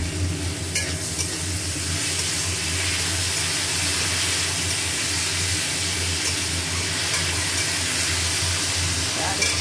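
Spices, red chili and tomato sauce frying and being stirred in a pan, a steady loud sizzle with scraping stirring noises, close by, and a voice speaking at times.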